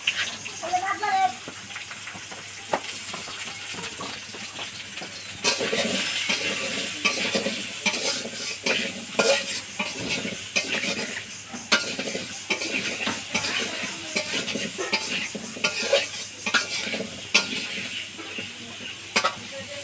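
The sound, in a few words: potatoes frying in a pan for meat curry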